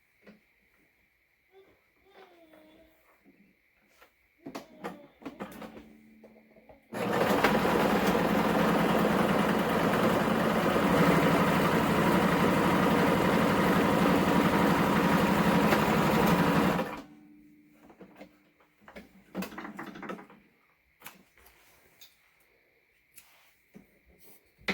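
A sewing machine runs in one steady, loud, unbroken burst of about ten seconds while top stitching a fabric face mask, with quiet handling sounds and brief talk before and after.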